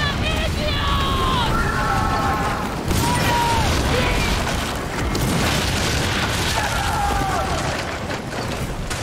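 Cannon fire in a pirate video game, a few heavy booms rolling under a constant dense game soundscape with music and voices, the loudest burst near the three-second mark.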